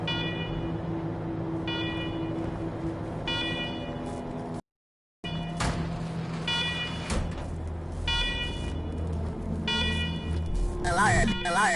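Alarms blare in the video game Wasteland 3, a loud repeating electronic tone with bursts of harsh buzzing, dropping to a brief silence midway before returning, with clanking game sounds mixed in.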